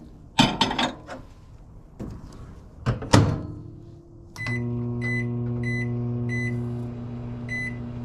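Microwave oven being loaded with plastic fishing bait for remelting: a few thuds and a door closing, keypad beeps, then a steady humming run with a high tone that pulses regularly.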